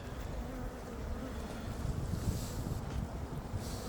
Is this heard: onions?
no